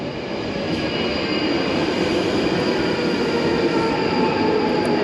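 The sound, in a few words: underground train passing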